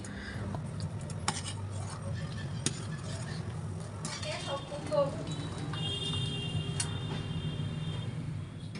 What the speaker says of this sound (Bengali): আমি দুই চামচ আগার আগার পাউডার ব্যবহার করেছি আর এখন খুব ভালো করে মিশিয়ে নেব